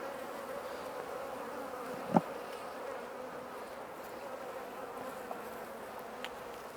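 Honey bees swarm and buzz around an open Langstroth hive while its frames are inspected in the apiary, giving a steady, dense hum throughout with one brief sharp click near the middle and a few faint knocks.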